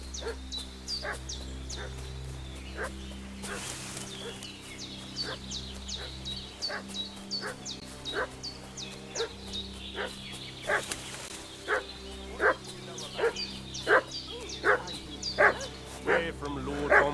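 Dog in Kingdom Come: Deliverance II barking repeatedly in a steady, insistent rhythm that grows louder and more regular, with a low ambient drone beneath and a few whimpering yips mixed in.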